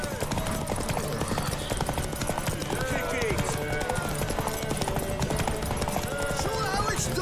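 Hooves clip-clop at a gallop in The Witcher 3 video game, a steady rapid rhythm running throughout, close and fairly loud, mixed with shouting voices and game music.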